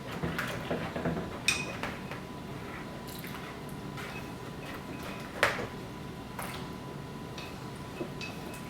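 A spoon stirs homemade slime in a bowl, giving faint, soft squishing and occasional light clinks of metal against the bowl, spread irregularly through a quiet room.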